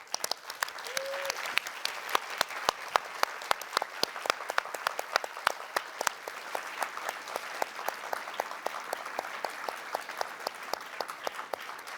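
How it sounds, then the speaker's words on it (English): Summit audience giving a final standing round of applause to award finalists, a dense, sustained wash of many hands clapping at an even loudness throughout, with scattered sharper claps on top. "please stand up for one final round of applause for all of these finalists from our audience."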